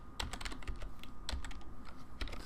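Rapid, uneven clicks of fingers typing on a computer keyboard, close and steady throughout with no voices.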